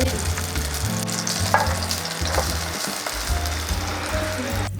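Beeswax melting in a pot over a direct flame gives a steady crackling sizzle throughout, under a low droning hum, loud and close.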